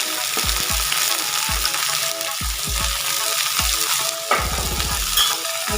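Radish, pointed gourd, pumpkin and potato pieces fry in a pan, a steady close sizzle broken by several sharp scraping stirs of the spatula against the pan, with a quick rattling burst of stirring near the end.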